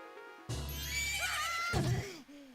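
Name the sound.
horse neighing in video game Zelda: Majora's Mask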